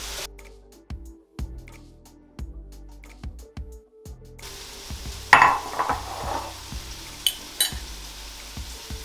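Korean-style BBQ pork fries in a pan: a faint steady sizzle runs throughout, with clicks and scraping taps from utensils stirring and flipping the meat, some sharper clatters toward the end, close and fairly quiet, no talking.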